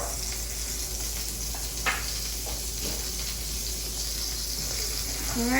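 Vegan butter and flavored oil sizzle in a hot greased pan, a dense, steady hiss close by with one brief clink of a utensil partway through.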